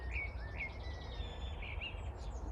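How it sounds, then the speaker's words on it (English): Birds sing on a quiet countryside morning, several short chirps and warbling phrases rising over a soft low background rumble, moderately distant and gentle, with no one speaking. "Beautiful morning, just listen to the birds."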